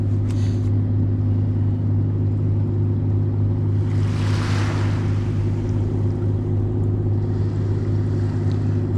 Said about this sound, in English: that crew boat gonna send that little wave.